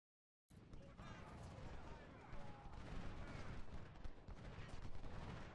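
Musket volleys and artillery fire from the Ultimate General: Civil War battle game, a dense continuous crackle of distant rifle shots with booming reports, rising after a brief silent start and holding steady throughout.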